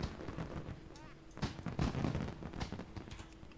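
Several booming cannon blasts fire in quick succession at the Darkmoon Faire in the video game World of Warcraft, thudding over a noisy background with faint voices.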